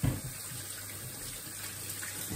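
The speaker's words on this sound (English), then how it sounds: "we need to wash it properly" Cold tap water runs steadily into a sink while pomegranates are washed under it, a continuous close splashing stream with no pauses.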